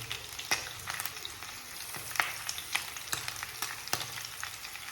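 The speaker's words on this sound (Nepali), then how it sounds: "अहिले चाहिँ अलिकति बेसार पनि हाल्दै, अनि प्याज हालिदिने।" Turmeric and onion go into a pan of frying pumpkin curry, giving a soft, quiet sizzle with a run of light crackles and utensil taps spaced through it.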